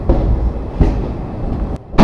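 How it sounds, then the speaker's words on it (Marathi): The Shalimar Express pulls away from the platform, a loud continuous rumble of wheels and carriages close by, with a sharp break near the end before the noise resumes. "फायनली गाईज आपली रेल्वे जी आहे ती ऑन द वे निघालेली आहे."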